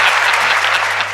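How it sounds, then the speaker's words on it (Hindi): Loud, dense applause from an audience at a comedy poetry recital, a steady wash of many hands clapping with no pauses. "ताली जोरदार बजती है यहाँ पर।"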